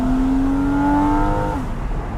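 A Porsche 981 Cayman with PDK gearbox revs hard after a downshift to second gear, its mid-mounted engine rising in a loud, smooth, close climb before easing off.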